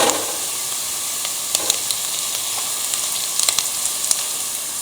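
Onions sautéing in a pan for a Malatya chickpea and pumpkin stew give off a steady close sizzle and hiss with a few faint clicks and scrapes scattered through it.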